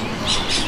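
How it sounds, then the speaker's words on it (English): A parrot gives two quick, shrill, bright calls in rapid succession, close and sharp within a brief burst. "P for parrot"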